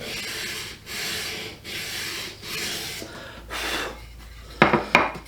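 Sanding block worked back and forth along the grain of a wooden gun stock during refinishing, giving steady rasping strokes in a slow rhythm, followed by two sharper scraping bursts near the end, close and alone.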